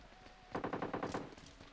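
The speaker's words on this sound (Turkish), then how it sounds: "Sağda da bir atış var." Automatic gunfire in the mobile battle royale game PUBG Mobile on the Sanhok map, a short quick burst of rapid shots rattling at moderate distance, faint and compressed.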